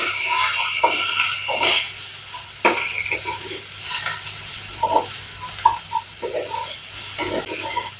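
A large chopped onion fries in refined oil, giving a steady close sizzle broken by repeated scraping and stirring strokes of a spatula against the pan.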